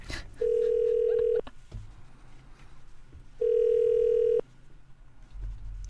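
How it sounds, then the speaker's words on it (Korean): A telephone ringing tone on a call, sounding as two long, even tones of about a second each, separated by a gap of roughly two seconds, over faint background noise. "지금 전화하고 있습니다. 3번 이상 울리게 하면 안 되는데"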